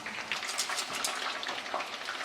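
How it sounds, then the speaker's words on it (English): Chicken wings frying in oil in a wok give off a dense, continuous hiss and crackle, close and steady, with no voices. "Continue frying here until we're all done."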